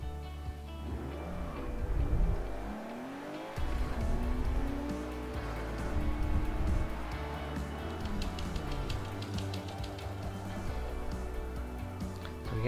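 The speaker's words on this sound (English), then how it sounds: "We're just going to pull the handbrake and let the car sort of snaky to a stop" A racing-game car at about 100 km/h has its handbrake pulled and slides to a stop, a steady engine drone with tire squeal and skidding that wavers as the car snakes, loud and continuous with no talk.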